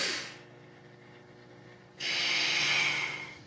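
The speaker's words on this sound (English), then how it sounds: "You can interrupt that early with this quick draw breathing." A sharp, quick inhale through the nose as part of a quick draw breathing exercise, followed by a pause and a longer rushing breath, close to the microphone with no talking.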